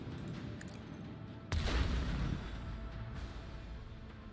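Melter torpedoes detonating in the game Rogue Trader, a sudden sharp burst followed by about a second of rumbling, fading explosion against a low steady background hum.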